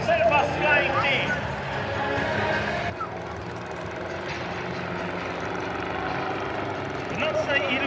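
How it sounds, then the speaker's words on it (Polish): Three Morava propeller planes of the Cellfast Flying Team fly a night illuminated air show in Krosno, their engines droning loudly and steadily throughout with a commentator speaking over them. "Daniel Dentarz i Arkadiusz Nowak w trzech samolotach Mora, zespół Serbas Flying Team."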